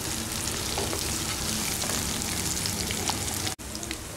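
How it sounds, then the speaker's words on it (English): Green chilies frying in a pan of oil for a brinjal dish, giving a steady, loud, dense sizzle with faint crackles that cuts off abruptly for a split second near the end before resuming. "next green chilies, fry this for 1 minute"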